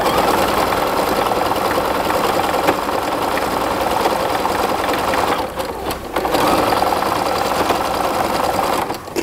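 Sewing machine running steadily and close up while top stitching the straps of a swimsuit, a continuous whirring hum with a brief pause near the end before it resumes.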